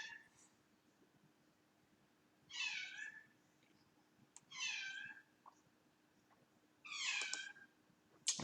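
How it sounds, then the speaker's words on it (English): A cat meows three times at a quiet, moderate distance, each call drawn out and spaced a couple of seconds apart, over a faint low hum. "Why are you meowing so much?"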